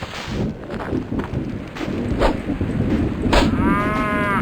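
Cattle moo in the survival game Survivalcraft 2, a drawn-out bovine call rising clearly near the end over a busy bed of game noise and soft footstep-like thuds.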